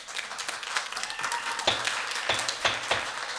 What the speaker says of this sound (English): Refrain from clapping.